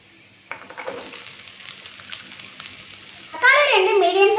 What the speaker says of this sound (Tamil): ஒரு பெரிய வெங்காயம் கட் பண்ணி வச்சதை ஆட் பண்ணிக்கங்க